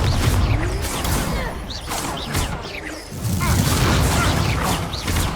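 In Hogwarts Legacy, a Confringo fire spell explodes amid battle effects. Booms, crashes and whooshes layer densely over one another, and voices shout over the spell sounds throughout.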